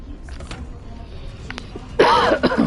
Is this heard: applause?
no